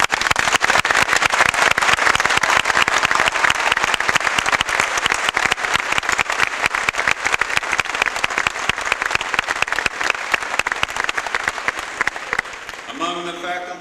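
Graduation audience at SUNY Cortland applauding the faculty, sustained loud clapping from a large crowd that continues steadily before tapering near the end, where a voice begins speaking.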